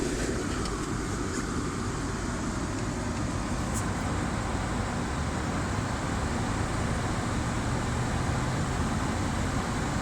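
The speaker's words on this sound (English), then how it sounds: "I'm now going to rev it 2000 RPM for 25 seconds." A Range Rover L322 with a 3.6 TDV8 diesel engine held at a steady 2000 RPM, a continuous broadband engine roar throughout, even in level with no pauses.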